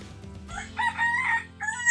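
A rooster crows once nearby, a clear drawn-out call over a low background hum.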